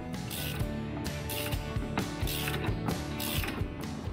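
A hand ratchet loosens bolts on an EZ-GO TXT golf cart, producing rapid close clicking pawl bursts in repeated back-and-forth strokes, with no voices over it.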